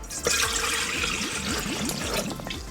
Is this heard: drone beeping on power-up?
no